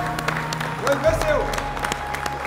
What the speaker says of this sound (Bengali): আমরা সবাই করতালি দিয়ে মৌসুমীকে বিদায় জানাবো।